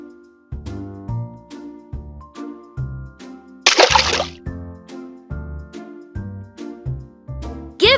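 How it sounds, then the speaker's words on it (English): A splash of bath water as a pup gets a bubble bath in a PAW Patrol video game: one short, bright burst midway through, set against steady, cheerful game music. "Give the pup a bubble bath before they go to bed."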